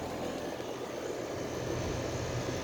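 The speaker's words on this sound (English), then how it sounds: "This one's running. Very quiet compressor." A 2007 York 4-ton air conditioner with swept three-blade fan and compressor blanket runs quietly, giving a steady broadband hum and whoosh with no pauses throughout.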